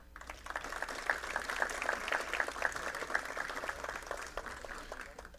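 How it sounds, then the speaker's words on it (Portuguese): Faint, steady applause from an audience welcoming the officials at the head table of a Brazilian tax arbitration event. The clapping is distant and evenly sustained throughout, with individual claps blurring together. "Os aplausos recebem as autoridades que compõem a mesa, por favor."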